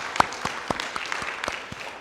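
A church congregation gives encouraging applause for the writer of a poem: a brief run of evenly spaced, moderately close claps at a steady quick beat.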